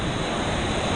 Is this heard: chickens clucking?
no